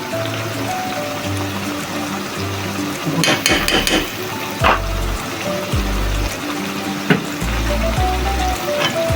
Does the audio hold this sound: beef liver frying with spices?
yes